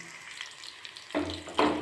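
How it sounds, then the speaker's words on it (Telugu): Dried red chillies, onion, garlic cloves, curry leaves and tempering seeds frying in hot oil, a soft steady sizzle that swells louder with two bursts of crackle near the end, no voices. "ఉల్లిపాయలు, ఎండుమిర్చి, వెల్లుల్లి రెబ్బలు, కరివేపాకు, తాలింపు గింజలు బాగా వేయించుకోవాలి."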